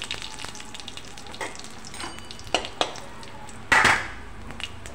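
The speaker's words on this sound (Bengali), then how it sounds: "তেলের মধ্যে কালো জিরা, শুকনো লঙ্কা ফোড়ন দেব।" Nigella seeds and dried red chillies tempering in hot oil for a Bengali banana stem fry, a soft crackling sizzle punctuated by a few sharp pops and spoon clinks near the end.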